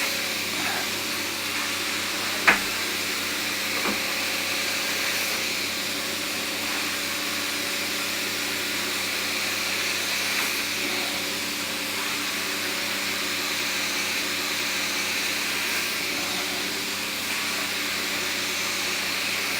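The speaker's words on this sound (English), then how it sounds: "This is obviously a lounge carpet we're cleaning, deep cleaning" A carpet cleaning machine deep-cleans a lounge carpet, giving a steady, loud, unbroken hiss and whine that holds for nearly twenty seconds, with one brief knock early on and no talking.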